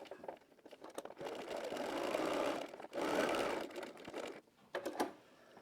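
A sewing machine runs in bursts while stitching a seam on a Cashmerette Hazelton wrap dress, with a steady whirring drive broken by a few short pauses and quick restarts, close by and fairly quiet.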